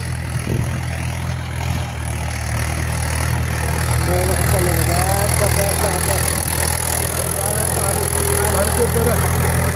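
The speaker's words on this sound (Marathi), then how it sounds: "ट्रॅक्टर आला बघा।" A tractor's diesel engine chugs steadily at a low, even rumble for the whole stretch, close by in a field during sowing, with faint background voices.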